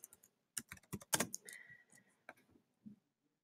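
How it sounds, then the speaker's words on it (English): Search terms are typed on a computer keyboard in short, quiet bursts of crisp key clicks with a brief held-key streak in the middle and scattered taps afterwards, heard close and alone. "Type in your search terms"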